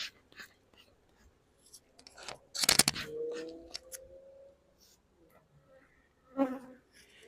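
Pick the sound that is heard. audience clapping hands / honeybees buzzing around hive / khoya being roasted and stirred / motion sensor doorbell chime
honeybees buzzing around hive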